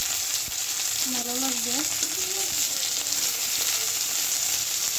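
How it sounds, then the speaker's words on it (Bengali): Green chillies frying in a pan for a potato peel mash, a steady close sizzle under a brief spoken comment. "কাঁচামরিচ দিয়ে দিলাম একটু, কাঁচামরিচ ভাজার একটা সেন্ট আছে"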